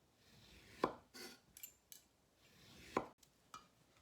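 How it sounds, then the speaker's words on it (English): A knife slicing the peel off an orange on a cutting board, with two sharp thuds of the blade hitting the board and several softer scraping cuts between them, close and quiet. "And then cutting down and removing all the skin."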